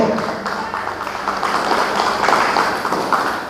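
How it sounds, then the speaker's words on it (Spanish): Church congregation clapping strongly during a worship service, a dense, sustained wash of many hands that swells slightly and continues throughout. "Denle fuertes palmas al Señor, por favor."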